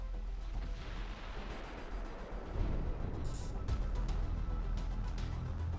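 Heavy broadside gunfire from a warship in a naval combat video game: deep booming blasts and rumbling impacts that swell louder in the second half, continuing without a break.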